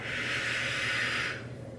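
Steady breathing during a core exercise, a long close exhale that hisses airily for over a second, then eases off.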